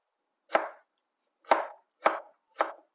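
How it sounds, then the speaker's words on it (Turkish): Onions are chopped on a cutting board, four crisp knife strikes spaced unevenly with the last three coming quicker, close and clear against silence. "Ben doğramayı tercih ediyorum."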